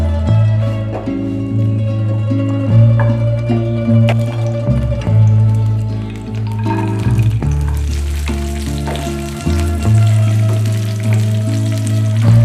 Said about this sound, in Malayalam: കുറച്ച് നെയ്യ് എടുത്തിട്ട് നമ്മൾ അണ്ടി, മുന്തിരി ഈ സാധനങ്ങൾ ഒന്ന് വഴറ്റിയെടുക്കുക.